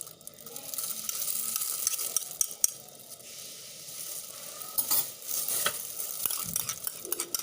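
A spoon stirs a tofu and egg batter in a bowl with quiet, continuous wet scraping and irregular sharper scrapes. A light sizzling texture runs underneath.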